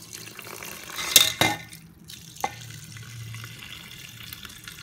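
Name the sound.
butterfly pea flower water poured into pot of rice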